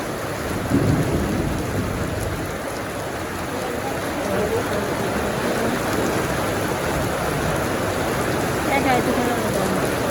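Heavy rain at night pours steadily and densely throughout, with a deep rumbling thunder-like undertone and a faint voice barely present beneath the downpour.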